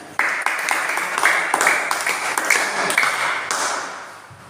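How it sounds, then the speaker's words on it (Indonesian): Classroom applause after a group presentation: a burst of many hands clapping starts abruptly and carries on steadily with a few sharp pings and taps, fairly loud and close, with little talk. "Tepuk tangan."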